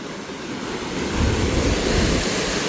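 Close, loud surf crashes on a rocky Portuguese shore, the rumbling wash building after the first second into a steady roar mixed with wind noise.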